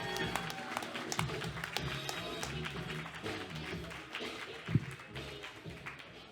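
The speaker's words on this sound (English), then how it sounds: "Get your hands going. Change your minds. Start clapping right now." Audience applause and clapping in a comedy club as comic Sean Robinson comes on stage, a steady crowd wash of claps with a few louder thumps.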